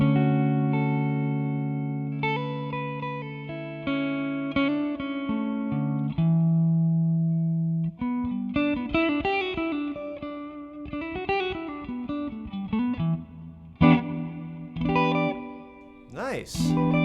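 An electric guitar played through a TC Electronic Hall of Fame reverb pedal on its church setting rings out in sustained chords and plucked notes, trailing into spacious, echoing decay with no one talking.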